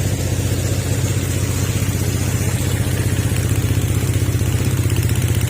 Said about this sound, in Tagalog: So, ayan po yung tunog ng makina niya.